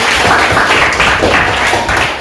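A class of students claps for a classmate, a loud, close, continuous patter of many hands with no talk over it.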